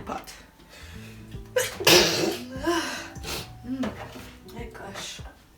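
A single loud, close human sneeze bursts out indoors beside a pot of miso soup, framed by short breaths and sniffs before and after.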